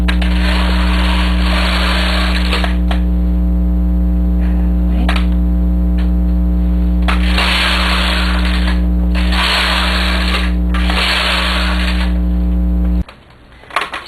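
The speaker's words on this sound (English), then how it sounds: "So I will knit 4 rows." A knitting machine carriage runs steadily across a bulky-gauge front panel for four rows, a loud continuous mechanical rattle and hum with brief pauses between passes, ending abruptly.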